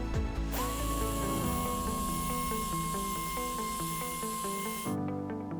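A high-pitched pneumatic spot sander polishing a car headlight whirs continuously with a steady airy hiss, then cuts out abruptly near the end.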